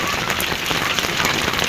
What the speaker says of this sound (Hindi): बारिश की आवाज़ आप सुन सकते हैं।